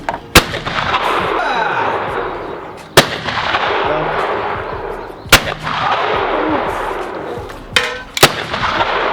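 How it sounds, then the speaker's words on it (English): Shotgun shots ring out at an outdoor clay shooting range in Daegu, Korea, four sharp loud blasts spaced a few seconds apart, each followed by a long rumbling echo. "The clay shooting was good."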